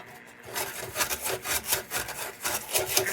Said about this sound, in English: the more shit I get off with this brush, the less that's gonna get flung around the house from the bench grinder